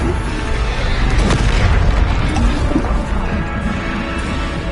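Depulso force spell cast and striking its target in Hogwarts Legacy, a loud continuous rumbling boom with bursting impact noise amid dense combat sound effects, steady and close throughout.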